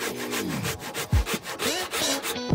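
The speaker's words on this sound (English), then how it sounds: "we just cut the short sides off of the end of this tenon" A handsaw cuts the short sides off the end of a timber tenon for a timber-framed pergola, giving steady, close rasping strokes with a few brief pauses and knocks.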